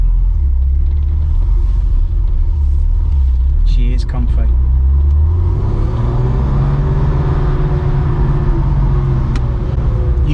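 A Porsche 993 C4 with a modified exhaust and airbox drives off, its engine droning low and steady, rising in pitch as it accelerates from inside the cabin, with people talking over it.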